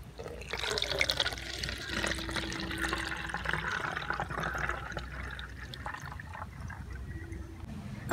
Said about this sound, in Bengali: এই জলটা এবারে ছেঁকে নেব।